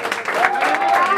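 Birthday party guests applaud at Claudia's celebration with a mariachi band, a short burst of dense clapping at steady loudness with a voice or tonal sound mixed faintly underneath.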